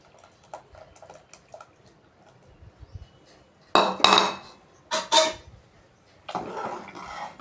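Dal tipped into a pot of simmering tamarind juice and vegetables, heard as a few loud clattering splashes and metal knocks against the pot, scattered over a quiet kitchen background.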